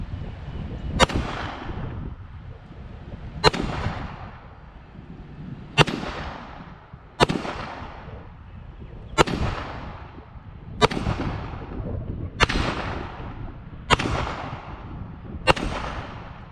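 A CZ-75B pistol fires FMJ rounds in double action, with nine loud, sharp reports spaced about every one to two seconds. Each crack is followed by a ringing echo, and no one speaks.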